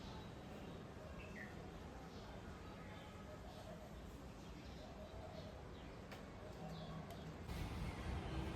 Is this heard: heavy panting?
no